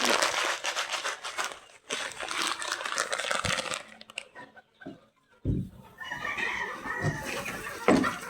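Baby chicks being fed, with soft rustling and crinkling feed sounds and scattered faint peeps, mostly close and steady with a few quieter pauses.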